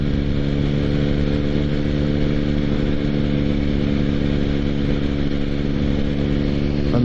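A motorcycle engine drones steadily while the bike rides through a series of road bends, a loud, even, mid-pitched hum heard close up with wind noise and no talking.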